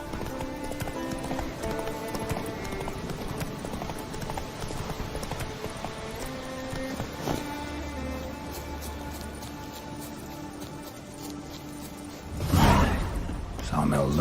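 The horse Roach gallops in The Witcher 3, a steady rhythmic clip-clop of hooves under background music, then a loud whoosh of movement near the end.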